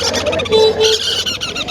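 Caged lovebirds and green-cheek parrots at a Mirpur bird market chatter and squawk in a brief, busy burst of overlapping shrill calls, close and loud.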